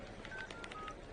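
Telephone keypad tones from a movie scene, a short quick run of several faint dialing beeps over a low background hum.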